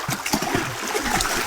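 River water rushes and splashes steadily nearby at a riverside campsite at Hulu Tamu Eco Resort, with broadband flowing noise and scattered splatters filling the whole stretch.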